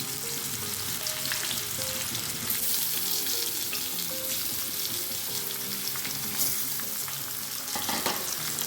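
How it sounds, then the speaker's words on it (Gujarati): Stuffed bitter gourds, Kathiyawadi-style bharela karela, frying in hot oil tempering, giving a steady close sizzle throughout with occasional stirring clatter of a utensil in the pan. "આ રીતે આપણે એક એક કરી અને બધા કારેલાને આ વઘારમાં એડ કરી દઈશું."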